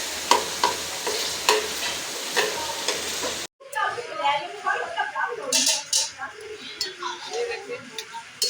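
Beef liver (kaleji) frying on a tawa with garlic and ginger, giving a steady close sizzle that is interrupted by a short cut and then returns with scraping, stirring and clinking of a utensil against the pan.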